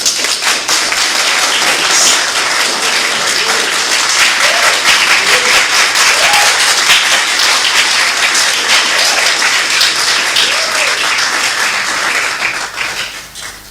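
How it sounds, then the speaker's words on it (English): A crowd at a political running-mate unveiling event claps loudly and continuously in sustained applause, with a few faint shouts underneath, tapering off at the end. "Let's give a round of applause to the incoming First Lady."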